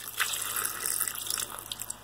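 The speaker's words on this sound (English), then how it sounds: "And then we can go ahead and just add water." Water pours steadily into a container to cover fine particles, a continuous splashing trickle that stays close and fairly loud throughout, with no talking.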